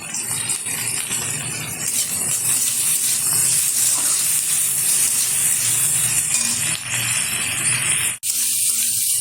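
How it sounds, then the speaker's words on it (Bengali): Chopped onion and tomato with salt frying in a pan for oats masala, a loud, continuous hiss and crackle of sizzling that holds steady throughout with a short dip near the end. "পেঁয়াজের সাথে এটাও আমি নেড়ে চেড়ে নিচ্ছি।"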